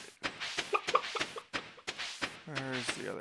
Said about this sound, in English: Let me go pet some chickens.